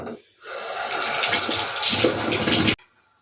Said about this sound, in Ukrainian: Отак нанесла і змиваю теплою водичкою.